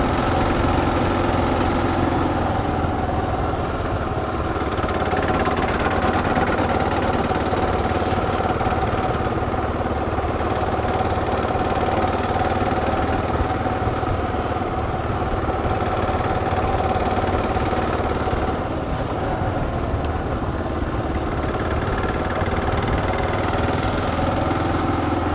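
A Kawasaki KLR650 motorcycle engine runs steadily for the whole stretch, a loud, continuous low chugging drone with slight shifts in pitch and no talking.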